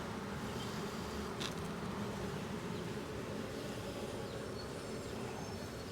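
Agitated honey bees swarm around an opened backyard hive in Jacksonville, Florida, producing a dense, loud, unbroken buzz that holds steady the whole time, close by.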